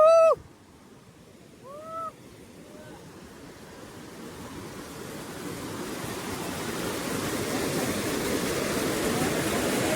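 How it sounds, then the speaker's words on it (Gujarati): A mountain waterfall pours into a river near the India–Pakistan border, a steady broadband rush of falling water that builds louder over the clip, with brief bird or voice calls near the start. "દેખો ગાઈસ ઝરનું જેટલું જબરજસ્ત પડે હ"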